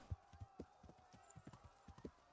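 Horse hooves gallop in the medieval video game Kingdom Come: Deliverance, a steady run of soft, rhythmic thuds at moderate distance, with no talk during the run.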